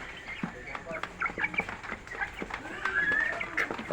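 Broiler chickens in a pen clucking and peeping in a busy overlapping chorus, close and fairly loud, with someone talking intermittently over them.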